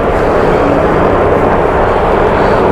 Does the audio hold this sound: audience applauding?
no